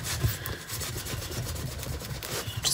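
A rag soaked in rubbing alcohol is scrubbed back and forth over painted faux woodgrain to lift overspray, giving a steady close dry rubbing and rasping sound with no talk.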